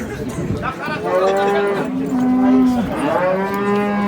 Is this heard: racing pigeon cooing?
no